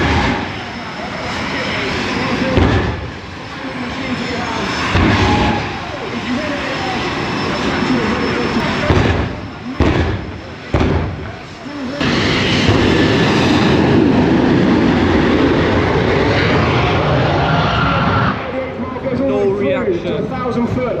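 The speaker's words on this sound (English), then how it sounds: "I'm in the jet car." A jet-powered drag car roars through a run at a drag racing event, a loud sustained blast that briefly dips and then surges again, with people talking over it.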